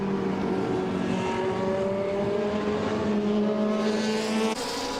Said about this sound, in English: Gerard Lopez now untroubled in this glorious Porsche 962 from 1990